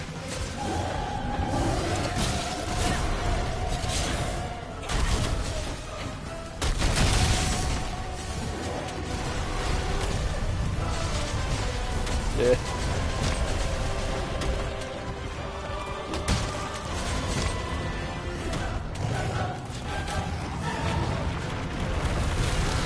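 Dense, continuous Monster Hunter World: Iceborne game soundscape with repeated booming explosion bursts and whooshes layered over music, steady and loud throughout with a heavier blast near the seven-second mark.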